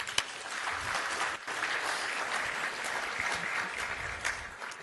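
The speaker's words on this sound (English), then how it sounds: "So let's give each other a round of applause." Audience at a regional economic summit applauds for nearly five seconds, a dense, steady wash of many hands clapping at moderate volume, with a brief dip partway through and no talking over it.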